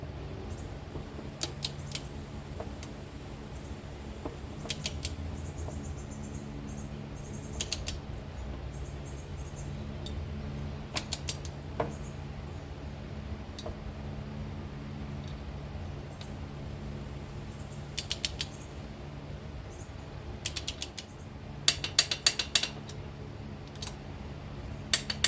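A torque wrench tightening cylinder head bolts during a top-end rebuild of a 2001 Honda Rancher 350, faint sparse ratcheting clicks in small bursts over a low steady background hum, quiet and close, no voices.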